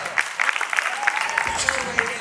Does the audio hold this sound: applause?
yes